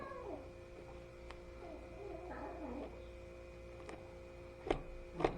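Cats meow in a quiet room where a turkey is being cut up, with several drawn-out, wavering meows close by over a low background hum and a few sharp clicks.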